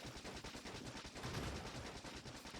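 Automated gun turrets in Factorio fire in rapid, steady bursts of machine-gun rattle, a quiet, continuous stream of shots with no talking.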